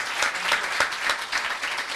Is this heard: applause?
yes